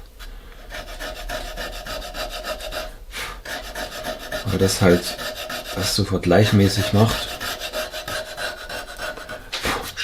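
A hand rasp files a carved wooden ornament, giving a steady scratchy rasping throughout with a couple of louder, rhythmic bursts of strokes midway, while someone speaks briefly over it.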